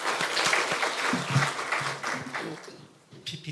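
Church congregation applauding during a Sunday service, a steady wash of clapping from many hands that fades out toward the end.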